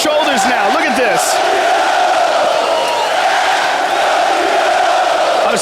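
A packed fight arena roars around featherweight Jose Aldo as he runs into the crowd, loud continuous cheering and yelling with whoops rising early on, a commentator's voice running over the din.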